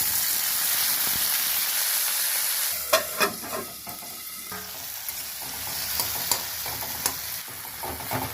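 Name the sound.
tomatoes frying in oil in a kadai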